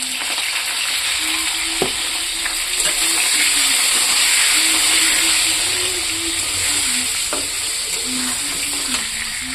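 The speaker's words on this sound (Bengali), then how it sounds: "আলুটা ভাজা হয়ে গেছে" Potato pieces frying in hot oil with turmeric, a loud steady sizzle with occasional stirring scrapes running throughout.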